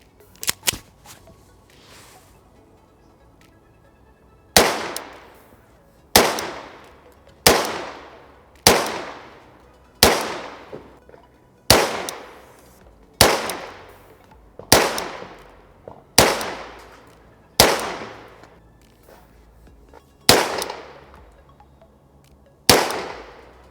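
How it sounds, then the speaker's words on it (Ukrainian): A series of loud, sharp shots from a less-lethal pistol firing rubber bullets at targets, one at a time at a steady pace, each crack followed by a short ringing decay, with no talking. "Я зроблю по 5 пострілів в кожну мішень,"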